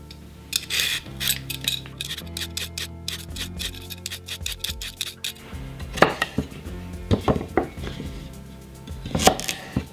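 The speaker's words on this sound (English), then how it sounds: "I'm just going to go ahead and peel some carrots and then cut off the end of the carrots" Carrots being peeled with rapid, rhythmic scraping strokes, then their ends chopped off with sharp knife taps on a cutting board, close and clear with no talk.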